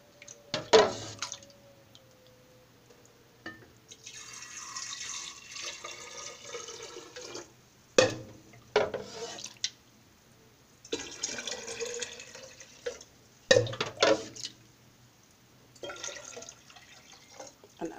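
Sweetened green tea brewed with cane sugar is poured into bottles for kombucha, with bursts of trickling liquid separated by sharp glassy clinks and pauses, close and fairly quiet.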